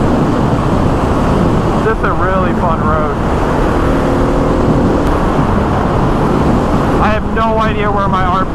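Heavy, steady wind roar buffets a moving motorcycle, heard inside a helmet on a canyon road at altitude, with a low engine drone underneath and a voice speaking briefly over the noise.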